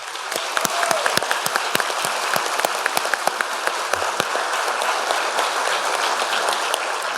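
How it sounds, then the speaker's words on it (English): An audience at a fire academy cadet graduation ceremony gives a sustained round of applause, steady crisp clapping with distinct individual claps standing out throughout. "let's give them a round of applause."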